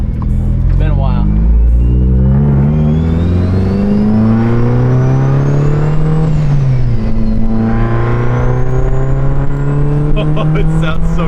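A Mitsubishi Evo wagon engine revs while driving, heard from inside with rising and falling engine pitch through the gears and a whine overhead, loud and continuous, with people talking over it.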